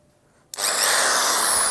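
A Dongcheng electric drill fitted with a 10 mm wood bit whirs up abruptly after a half-second of quiet, then holds a loud, steady, high-pitched buzz as it bores into wet waru wood.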